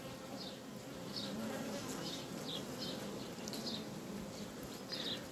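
Honeybees in a hive around the queen as she destroys a queen cell, a dense steady buzzing drone with occasional higher wingbeat flares, close and continuous.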